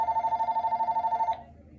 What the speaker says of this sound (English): Yes, we have a house phone.